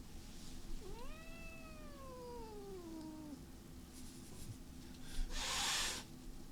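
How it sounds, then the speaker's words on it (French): A big cat gives one long, drawn-out meow that slides downward, close and clear over faint room hiss, with a brief rustle near the end. "Un gros chat."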